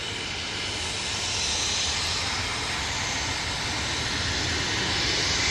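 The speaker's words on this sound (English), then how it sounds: "this Embraer Phenom is off to Roskilde" An Embraer Phenom business jet at Manchester Airport gives a continuous, loud engine roar with broad turbine hiss that holds steady and swells slightly as the aircraft moves nearby.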